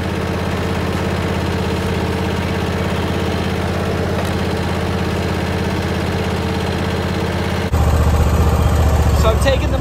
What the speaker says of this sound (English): So I'm taking the mower back in.